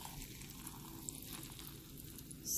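Seltzer mineral water pours into a glass of green detox juice with a continuous fizzing hiss and bubbling, steady throughout and swelling slightly at the end.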